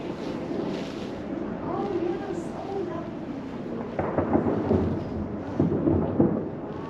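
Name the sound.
Hubbard Glacier ice breaking off into the water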